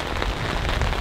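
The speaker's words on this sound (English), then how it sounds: "you can likely hear, it's raining rather hard at the moment." Heavy rain pounds steadily on a camping tent during a storm, a dense, loud, close patter with no talking.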